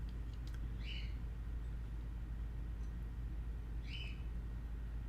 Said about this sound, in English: You may or may not be able to hear my cockatiels in the background.